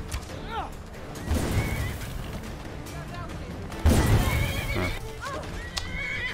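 A horse in Skyrim neighs and whinnies several times, with hoof clip-clops, clashing combat and sharp impacts around it, loud and close throughout the fight.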